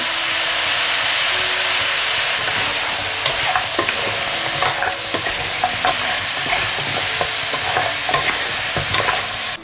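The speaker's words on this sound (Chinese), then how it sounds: "这煸炒， 放点生抽、蚝油" Stir-frying in a wok with soy sauce, oyster sauce, scallion, ginger, garlic, bay leaf, star anise and Sichuan pepper: a steady loud sizzle with repeated spatula scrapes and clacks against the metal, no voices.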